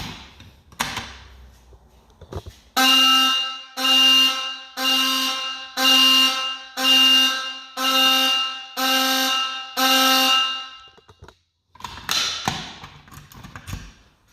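Vintage Simplex 4251-20 fire alarm sounding during a system test, loud and close, with eight evenly spaced horn blasts of about one second each, framed by handling clatter before and after.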